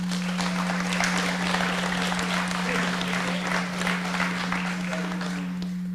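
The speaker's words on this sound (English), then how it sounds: "So please, a quick round of applause for yourselves." An audience at an engineering design expo gives a quick, steady round of applause, even and continuous throughout with a faint background hum.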